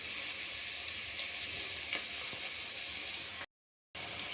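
Ginger garlic paste fries in a pan for South Indian tomato rice, a soft, even sizzle heard faintly and close, broken by a short silent gap.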